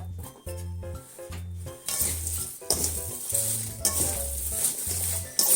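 Fresh spring cabbage being squeezed and kneaded by hand with salt, a wet crunchy rustling in repeated bursts, close and fairly loud over low tonal background music.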